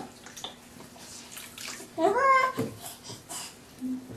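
Water splashes in a bathtub during a baby's bath time, with a brief louder splash amid quiet dripping and swishing while an adult talks softly and the child babbles.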